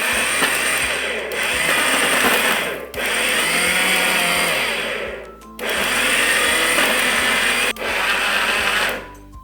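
A kitchen mixer grinder pulses sugar and cardamom in several short, loud bursts of whirring motor noise, each a couple of seconds long and separated by brief pauses.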